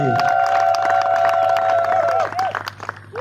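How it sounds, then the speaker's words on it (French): Guests at a civil wedding cheer for newlyweds David and Bénédicte, a loud sustained high-pitched cry carrying over scattered claps and crowd noise before trailing off, leaving rougher cheering and clapping. "Est-ce que je peux entendre le tonnerre d'acclamation pour eux?"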